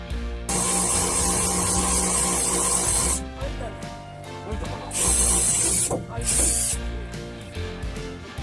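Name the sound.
drilling a 5 mm wiring hole in a wooden van ceiling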